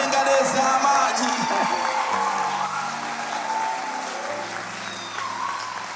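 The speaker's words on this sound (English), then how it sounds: "clap for these servants of God, the chosen servants of God." A church congregation claps for ordained servants of God at a Sunday service, a dense wash of applause that is loud at first and slowly thins out over several seconds, with faint voices and a sustained tone underneath.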